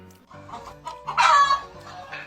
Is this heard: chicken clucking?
yes